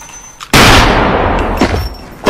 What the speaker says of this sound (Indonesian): Joska membunuhnya di tempat dia beristirahat dengan 2 tembakan yang dilayangkan ke dadanya